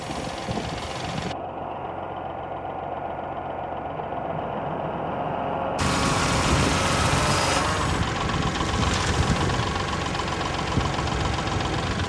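A Kubota L3902 tractor engine idles low and steady, a continuous near rumble that grows louder and rougher partway through, with no talk over it.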